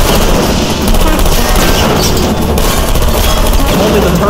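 Sustained turret gunfire in Portal Stories: Mel, a dense loud wall of rapid automatic shots running unbroken throughout, with no speech over it.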